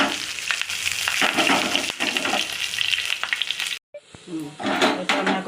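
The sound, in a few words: tempering (tadka) sizzling in hot oil for masoor dal pakoda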